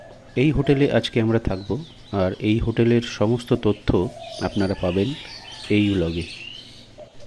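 Birdsong in the quiet surroundings of a hotel in Kohora, Kaziranga: faint high chirps and calls sit under a person speaking at close range throughout.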